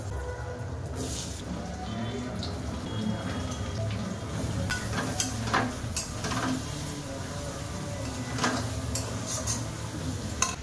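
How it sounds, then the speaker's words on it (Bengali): Cut pumpkin pieces fry in leftover prawn-frying oil in a wok, giving a steady close hiss with occasional clinks of a utensil against the metal. "এখন কেটে রাখা কুমড়োগুলো ভেজে দেবো তেলের মধ্যে দিয়ে"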